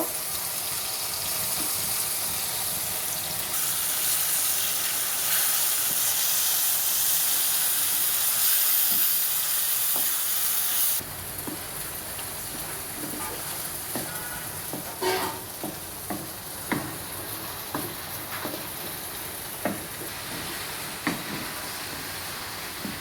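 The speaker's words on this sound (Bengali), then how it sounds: "এটা বাইলা মাছ মূলা দিয়ে আলু দিয়ে রান্না করব।" Small baila fish cooked with radish and potato in a home kitchen: a loud, steady sizzling hiss fills the first half, then cuts to a quieter simmer broken by scattered clinks and taps of utensils, with no talking.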